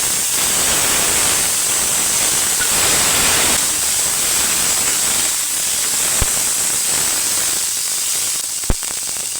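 Tomatoes fry in a pan for ridge gourd gravy with a loud, dense, continuous sizzle, broken by a couple of sharp clicks near the end.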